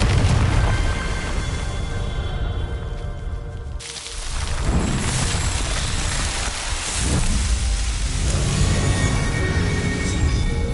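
A Confringo fire spell from Hogwarts Legacy goes off as a sharp blast at about four seconds, followed by rumbling booms and crackling bursts over a dense, steady bed of game noise.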